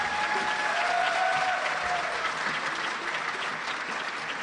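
Applause from a concert audience at a New Year's nostalgia concert fills the hall in a dense, steady clatter of clapping, holding loud and then thinning slightly toward the end.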